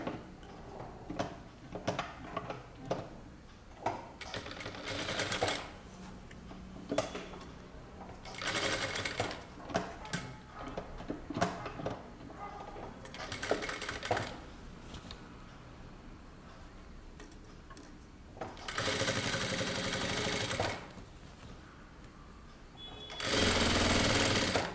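A sewing machine stitches a concealed zip in repeated bursts of rapid mechanical whirring separated by short pauses, close and steady, with no talking.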